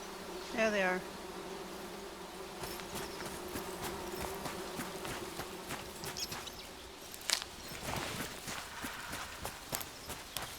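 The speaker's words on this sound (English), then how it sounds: "I hear bees." Steady insect buzzing of bees in the video game Among Trees, a continuous low drone lasting throughout, with brief chirps early and scattered soft clicks and footsteps over the ambience.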